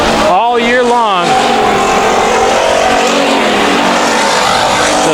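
Race cars roar through a heat race at Bakersfield Speedway, a loud engine pass with a rising and falling whine early on, then a steady wash of engine noise and crowd ambience with a commentator talking over it.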